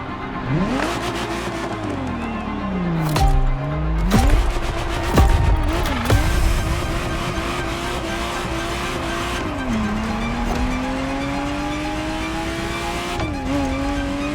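A Ferrari Testarossa in The Crew Motorfest: a loud engine revs hard and climbs through gears, dropping between shifts, while the tires squeal and skid through several short bursts over a steady close drone.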